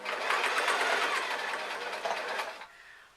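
A sewing machine stitches a baggy elastic-strapped top in one continuous close, busy whir that runs for most of the moment, then stops abruptly and leaves faint room noise.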